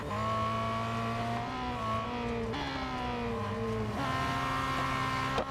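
Race car engine in Real Racing 3 holds a steady, loud droning whine that rises and falls in pitch as it shifts through gears, with one brief dip partway through and no talk over it.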